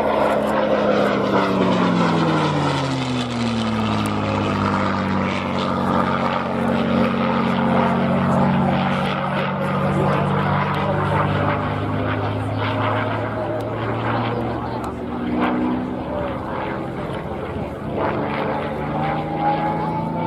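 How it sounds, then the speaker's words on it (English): A North American P-51D Mustang warbird from the Hangar 11 collection at North Weald, Essex, roars past at an air day display, its piston engine droning loudly and steadily with a sweeping pitch shift as it passes, under faint commentary. "This from the Hangar 11 collection at North Wheel in Essex, the North American P-51D Mustang."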